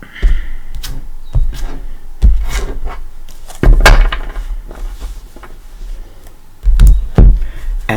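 A deck of tarot cards being cut and handled gives a series of dry rubbing, tapping and shuffling noises. The sounds come in short separate bursts, close and fairly loud, with no speech.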